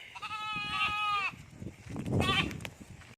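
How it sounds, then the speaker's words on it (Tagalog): Goats bleating at night on a farm, two wavering, harmonic cries, one early and one later, close and fairly loud over low background noise. "Wala, ayun lahat ng mga kambing."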